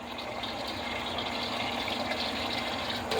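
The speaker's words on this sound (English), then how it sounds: "You can always pour out the excess water." Excess water poured out while cooking mac and cheese with hamburgers, a steady gushing splash that runs unbroken and fairly loud throughout.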